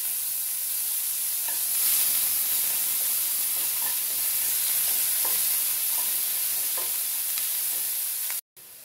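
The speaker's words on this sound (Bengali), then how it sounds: "ফোড়নের ভাজার গন্ধ উঠে এলে এখানে আমি 1 চামচের মতো পেঁয়াজ দিয়ে দিলাম" Onion sizzles in hot oil tempered with dried chilli and asafoetida, giving a steady, loud frying hiss that continues almost without a break until it cuts out briefly near the end.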